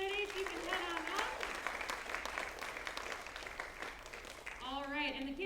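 Audience applause at a karate black belt graduation, a broad wash of clapping filling the room, with a voice speaking over it at the start and again near the end.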